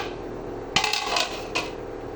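A lid is set onto a pot of boiling biryani with two light metallic clinks a moment apart, close by and quiet, over a soft simmer.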